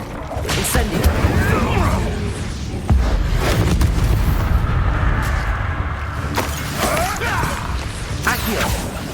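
Incendio fire spells cast during a Hogwarts Legacy fight, loud whooshing booms and crashing impacts layered over continuous combat noise, with a voice speaking over the action.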